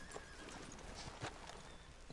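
Horse hooves clip-clop with a whinny in the Red Dead video game, with steady hoofbeats and short broadband hits beneath a faint, continuous background hum.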